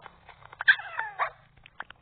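A dog whimpers and yips in a few short, high, faint cries spread over about two seconds, with quiet gaps between them.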